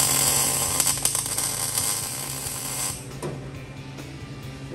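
Harsh buzzing crackle of a welder burning through weld-through primer on a 1965 Mustang Fastback, loud and close for about three seconds, then fading to a lower crackling sputter.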